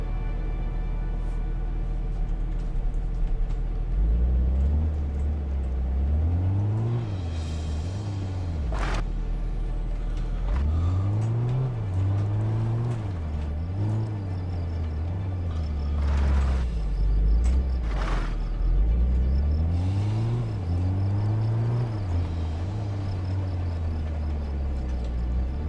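A vehicle carrying excavation equipment rumbles along at a dinosaur fossil dig site, its engine pitch rising and falling in repeated cycles as it drives, steady and fairly loud with no voices.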